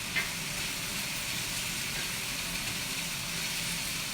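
Vegetables and onions browning in a hot pan give a steady, even sizzle close by, with a faint clink near the start and no voices.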